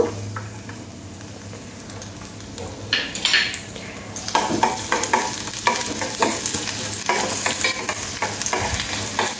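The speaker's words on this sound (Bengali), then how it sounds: "রসুন কিমাটা একটু হালকা লাল করে ভেজে নেব" Minced garlic frying in oil for a dal fry, a quiet hiss at first, then louder sizzling crackle with repeated spoon scrapes and clinks against the pan as it is stirred.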